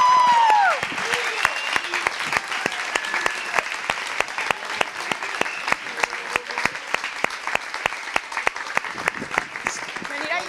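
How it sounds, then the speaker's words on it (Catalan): Sustained audience applause fills an auditorium after a secondary school musical, with dense, even clapping running steadily throughout at close range and a brief voice at the start. "Un fort aplaudiment!"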